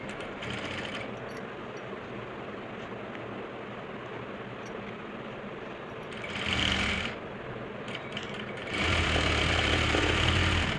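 A sewing machine runs steadily, stitching folded fabric laid over foam for an Afghani salwar, with a continuous close mechanical whir that swells briefly mid-way and again louder near the end.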